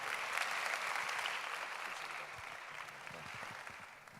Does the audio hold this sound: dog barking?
no